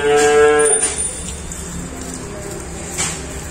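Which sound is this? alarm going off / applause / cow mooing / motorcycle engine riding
cow mooing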